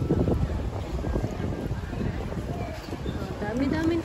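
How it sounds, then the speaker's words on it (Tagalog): Steady wind gusts buffet the microphone outdoors on a walk around a busy town centre, a continuous rushing roar with faint crowd noise and people talking nearby. "Ay, mahangin."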